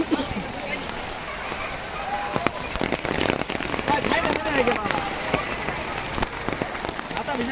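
Heavy rain pouring over an old village market in Jamsha, a steady dense hiss on surfaces with scattered sharper splashes and knocks, while people talk over it.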